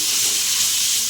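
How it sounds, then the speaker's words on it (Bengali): Chicken curry spice paste with turmeric and salt frying and being stirred in a pan, a loud continuous hissing sizzle with no pauses. "আমি মশলাটা কষে নেব।"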